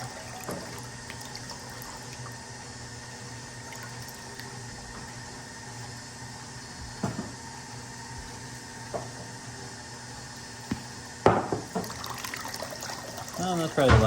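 Water trickles and splashes as it is poured onto freshly cleared land, a soft continuous wash with occasional gurgles, growing into a louder burst of splashing near the end.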